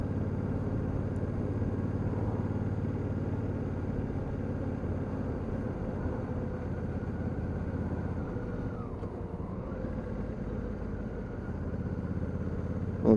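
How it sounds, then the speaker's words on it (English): Honda CRF1000L Africa Twin motorcycle riding along with a steady engine drone and wind noise, a brief dip in tone midway like a quick-shift gear change, no talking. "It has got the quick shift on it, so if I just touch the pedal like so, it blips the throttle."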